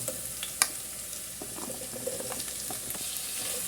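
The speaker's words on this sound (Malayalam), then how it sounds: "എണ്ണ ചൂടായിട്ടുണ്ട് നമുക്ക് കടക് ഇട്ട് കൊടുക്കാം സവാള ഇട്ട് കൊടുക്കാം" Onions, ivy gourd and potatoes frying in hot oil in a pan, a steady soft sizzle with occasional crackles and stirring clicks, close and fairly quiet.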